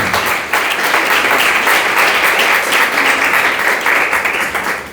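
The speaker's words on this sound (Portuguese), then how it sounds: "Aplauda o nome do Senhor Jesus Cristo" Loud, sustained applause from a church congregation at a Sunday service, many hands clapping densely and evenly throughout, with a slight dip at the start and fading toward the close.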